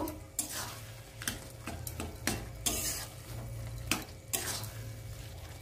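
Kachu shak (taro leaves) stirred in a pan to cook off its water: repeated scraping strokes of a spatula against the metal alongside a soft steady sizzle, close and moderately loud, with no voices.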